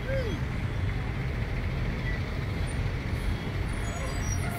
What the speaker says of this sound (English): Look at all these tow trucks, y'all.